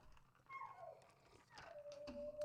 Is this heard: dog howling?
yes